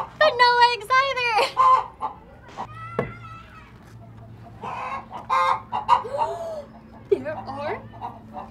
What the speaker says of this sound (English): There's a really big chicken in here, but no eggs either.